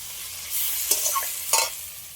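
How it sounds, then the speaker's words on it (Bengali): Potatoes being stirred and fried in masala for chicken ghugni, with two short scraping stirs against the pan over a soft, steady sizzle; close and fairly quiet, with no talk. "হালকা করে এর সাথে নেড়ে চেড়ে নেবো।"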